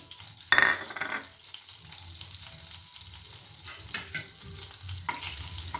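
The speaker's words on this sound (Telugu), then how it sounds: "ఇది కొంచెం హీట్ అయిన తర్వాత జీలకర్ర యాడ్ చేస్తున్నా వన్ టీ స్పూన్" Cumin seeds hit hot oil in a pan while cooking paneer curry, with a sharp burst of sizzling, then a softer ongoing crackle and occasional stirring scrapes.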